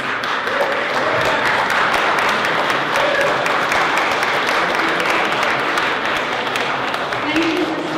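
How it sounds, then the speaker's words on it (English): Rally audience in Oklahoma City applauding health professionals, dense sustained clapping from a large crowd, loud and continuous from start to finish. "We'd like to give you a round of applause."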